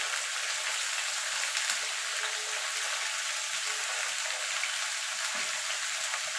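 Mixed vegetables for a vegetarian panchmishali sabji sizzle and fry steadily in a pan, a continuous crackling hiss close by with faint stirring, no voices.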